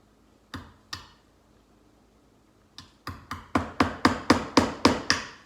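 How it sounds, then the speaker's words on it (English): A hammer strikes nails into a board for a child's string art craft: two isolated sharp taps, a pause, then a steady run of about ten evenly spaced, increasingly loud knocks, close by with no talk. "Just watch your fingers with nail or with the hammer and go slow."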